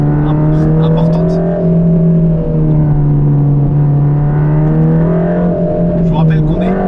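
Inside a Mercedes AMG GT Black Series with its 730 hp engine, a loud steady drone with sustained harmonics holds under cabin talk, shifting pitch slightly as the exhaust note changes when the throttle lifts.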